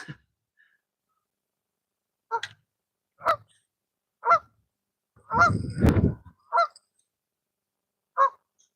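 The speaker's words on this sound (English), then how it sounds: "Don't get that close to Canadian geese much" Canada geese honk at close range beside a concrete wall on a windy fishing outing, about eight short separate calls spaced roughly a second apart, with a brief gust of wind rumbling in the middle.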